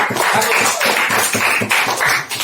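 Students in a classroom clap together in a loud, close round of rhythmic applause that holds steadily for a couple of seconds.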